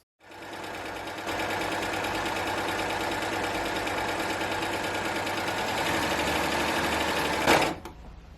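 baby lock Acclaim overlock machine running steadily while sewing a gather into fabric, a continuous fast mechanical whir that starts abruptly, holds for about seven seconds and then stops, close and loud with no talking.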